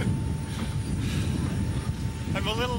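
Airplane engine droning loudly and continuously, a dense, rumbling roar heard from inside the aircraft, with a voice briefly cutting in near the end.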